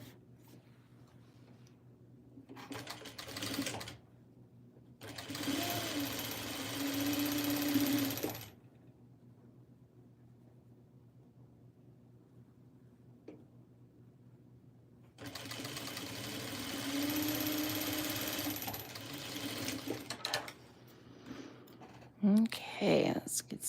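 A sewing machine stitching a quilt along a 1-inch seam, running in two sustained bursts of steady whirring separated by quieter stretches with faint handling sounds, close by.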